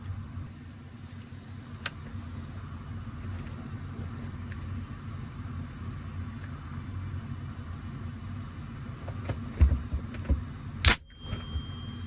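A rifle bolt drops and a primer detonates with an FRT trigger. A low steady hum runs underneath, then one sharp, loud snap comes near the end after a few faint clicks.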